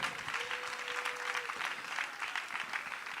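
A church congregation claps steadily for about three seconds, dense even applause with a brief tonal hum near the start.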